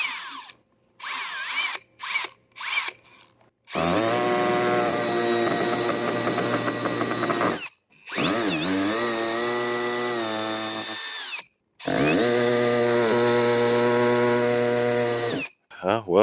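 A Metabo HPT hammer drill boring into boards, heard as loud, close, high-pitched motor whine in three long bursts, with pitch wavering under load and brief clicks and pauses between runs.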